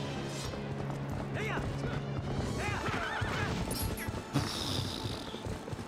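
In Zelda: Twilight Princess, a horse neighs repeatedly over rhythmic galloping hoofbeats, with game clashes and music, while players talk over the action.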